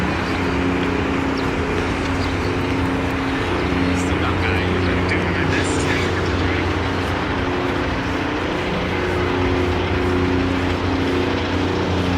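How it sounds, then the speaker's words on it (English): A steady helicopter engine drone with rotor-like throbbing hangs overhead in downtown Toronto, loud and continuous, while a voice talks beneath it. "it sounds like there's a chopper around here"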